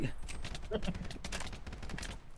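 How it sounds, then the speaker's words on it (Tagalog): Rapid bursts of gunfire in the Minecraft video game during a prison escape, a dense fusillade of repeated shots filling the whole clip while players shout in the background. "Barilin nyo si Benji."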